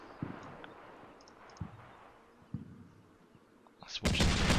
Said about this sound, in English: that definitely looks like cannon fire to me